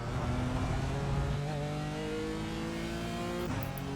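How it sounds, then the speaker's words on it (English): BMW M4 GT4 race car in the iRacing sim, engine droning steadily under load with harmonics that rise as it revs up through the gears, loud and continuous with no talk. "Yeah, car doesn't sound too great."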